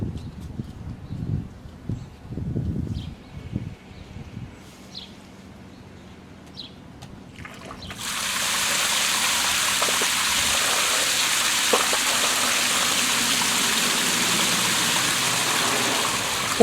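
Pool pump kicks on and water rushes out of a rooftop solar heater line, a steady loud gush starting partway through after quieter knocks and handling noises.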